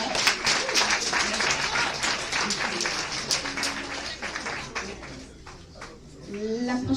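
A poetry slam crowd claps for a poet after the scores are read, a broad wash of applause that is busy at first and then thins and fades, with murmured voices and some stray sounds mixed in underneath.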